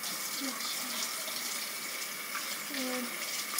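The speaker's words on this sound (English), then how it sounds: "Right now, I'm just gonna wash my hands." Water runs steadily from a tap during handwashing, a continuous close hiss and splash, with faint voice-like sounds briefly over it.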